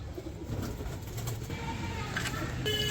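Pigeons in a fancier's loft coo in low, rounded bursts that repeat through the whole stretch, close and steady, with a faint background hum and a brief rustle near the end.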